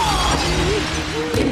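Window glass shatters as a demon is smashed through it in an action scene from the 2000 TV series Angel, a single bright crash set against a steady background of score and voices.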